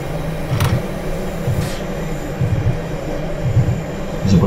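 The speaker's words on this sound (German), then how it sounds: "Also bremsen tut dieser Zug auf jeden Fall sehr gut, muss man echt sagen." A Railjet train brakes on the Semmering Pass in Train Sim World, a loud steady low rumble with rhythmic pulsing thumps and occasional brief hissing bursts.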